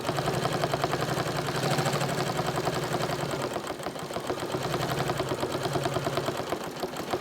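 A Bernina sewing machine fitted with a stitch regulator sews a spiral, giving off a continuous rapid mechanical whirring and ticking that stays close and fairly even throughout, with no talking.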